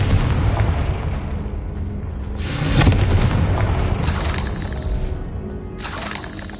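A Confringo blasting spell going off in Hogwarts Legacy, a loud, dense explosive roar with rumbling low end and crackling debris, swelling mid-way and trailing off into a sustained noisy wash.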